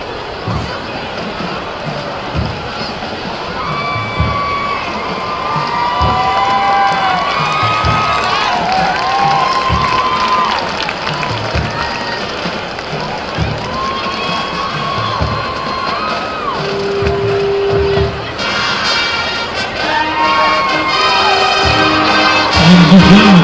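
A large Senior Night crowd at a high school football stadium in Waxahachie cheers and shouts steadily, loud and sustained with rising swells, while an announcer speaks over the noise.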